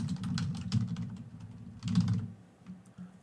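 Quick bursts of typing on a computer keyboard while entering a heading in a Word document, close and soft, in two clusters of rapid clacks with a brief pause between them.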